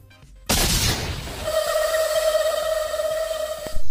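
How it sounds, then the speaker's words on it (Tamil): A bomb goes off in the horror game Granny Chapter 2: a sudden loud blast, then a sustained ringing electronic tone that hangs on for several seconds. "இது என்ன வெடிகுண்டு வெடிச்சிருச்சு"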